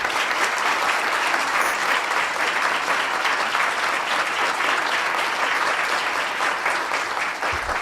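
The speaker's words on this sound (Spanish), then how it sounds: "vamos a agradecerle con un aplauso." A room full of people at a law and economics symposium applauds steadily, a dense sustained patter of clapping that carries on without pause.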